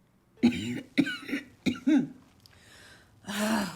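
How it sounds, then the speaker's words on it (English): A run of rough, throaty coughs in quick succession, close and fairly loud, followed by a raspy breath. "it's just a cough"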